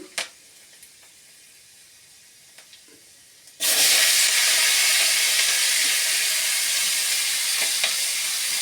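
Vegetables hit hot oil seasoned with panch phoron, dried red chilli and bay leaf for a cauliflower-stalk chorchori, bursting into a loud, steady sizzle after a few seconds of quiet with faint crackles.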